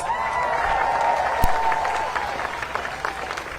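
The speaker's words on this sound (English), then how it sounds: "Give him a round of applause." Audience at a March on Washington commemoration event applauding, a dense crowd clapping with a sustained tone and some cheering underneath, one sharp loud clap near the middle, then fading.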